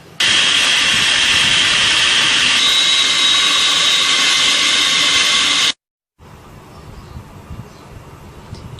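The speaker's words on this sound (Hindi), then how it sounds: "अब इन सारी चीज़ों को चॉपर में डाल के अच्छी तरह से पीस लेंगे।" Electric food chopper whirring loudly and steadily as it grinds minced meat with onion, coriander, green chillies and egg, a dense motor roar that cuts off abruptly, followed by quieter room noise.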